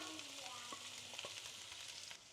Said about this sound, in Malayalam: നമുക്കിനി കുറച്ച് സവോള ഇടാം കേട്ടോ.